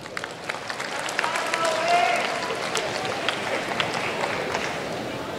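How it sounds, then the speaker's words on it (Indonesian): An audience at a university public lecture breaks into a steady patter of clapping that runs throughout, moderately loud in a large hall, with a few voices murmuring beneath it. "Oh, tepuk tangan dulu nih."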